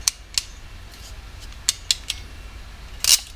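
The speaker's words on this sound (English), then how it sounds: "and we'll go ahead and crimp it." A hand crimping tool squeezes a connector onto a stripped wire, giving several sharp metallic clicks and snaps spaced irregularly, ending with a louder ratcheting crunch, close up and with no speech.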